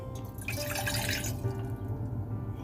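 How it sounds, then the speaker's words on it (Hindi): A little water poured into a dirty cup at a truck driver's roadside tea break, a soft, faint trickle and dripping close by with no talking. "इसमें डालेंगे हल्का सा पानी"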